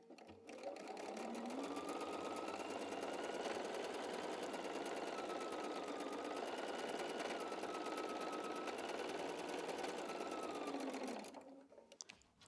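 A sewing machine runs steadily for about eleven seconds, stitching a quilt block seam with a continuous close, even mechanical whir that stops abruptly at the end.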